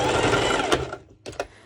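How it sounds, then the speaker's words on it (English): A sewing machine stitches through four stacked layers of fabric at close range in a steady whirring run, pausing briefly before a few short bursts of stitching. "you're sewing over 4 layers"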